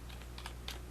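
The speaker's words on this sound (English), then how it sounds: "I'm going to type in my password." Quick burst of computer keyboard keystrokes as a password is typed, several light clicks in a short uneven run, close and fairly quiet with no talking.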